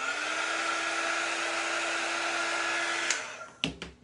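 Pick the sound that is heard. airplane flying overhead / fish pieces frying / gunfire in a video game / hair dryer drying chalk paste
hair dryer drying chalk paste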